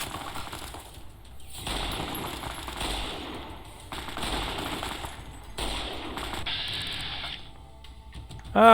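Bursts of rapid automatic gunfire in the video game Fallout: New Vegas, several sustained volleys with short gaps, steady and mid-loud, ending in a louder final hit.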